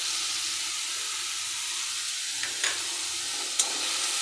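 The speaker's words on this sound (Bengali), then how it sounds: "ভালো করে কষিয়ে নেব যতক্ষণ না পর্যন্ত মশলা থেকে তেল ছাড়ছে" Ground spices fry in oil with a steady, close sizzling hiss, broken by a couple of soft scraping stirs of the pan.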